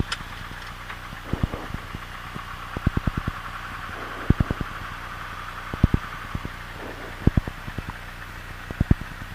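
A Piper Warrior III light aircraft engine idles on the runway with a steady low drone, with sharp periodic clunks and knocks throughout.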